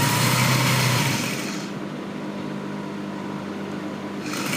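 A sewing machine runs while stitching the side seam of a churidar, its motor whirring loudly and steadily, then easing to a softer hum before speeding up again at the end.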